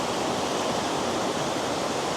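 Mingo Falls waterfall roars as a steady, dense wash of falling water, close and unbroken, with no voices over it.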